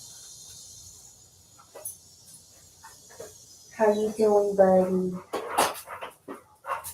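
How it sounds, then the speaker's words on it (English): Pet dog being let in from outside, giving a whimpering, whining vocalization for about a second amid soft background chirps, while someone speaks to it and brief rustling follows. "And now I need to let my dog in."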